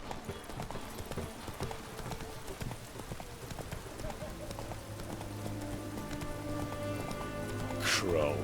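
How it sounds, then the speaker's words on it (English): Horse hooves clip-clop steadily through The Witcher 3, with rain pattering on surfaces and a voice speaking over the trotting rhythm. "Come on, Roach."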